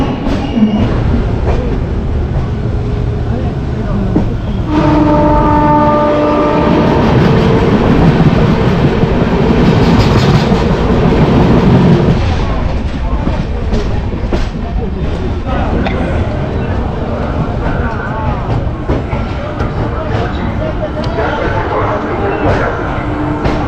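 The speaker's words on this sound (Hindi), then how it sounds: "पंडित दीनदयाल उपाध्याय से भी हमारी ट्रेन का डिपार्चर हो गया है 10 मिनट के हॉल्ट के बाद।" A passenger train departs Pandit Deen Dayal Upadhyaya Junction on the Delhi to Patna route, heard from inside a general coach as a loud steady rumble with clickety-clack of wheels and brief squeals, while people talk nearby.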